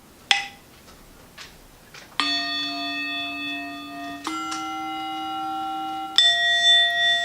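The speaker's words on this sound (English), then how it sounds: "you can choose what sounds you want, how long you want it. So like the starting bell" A bell rings clearly three times, each strike sustaining a bright, shimmering tone that hangs in the air before the next one.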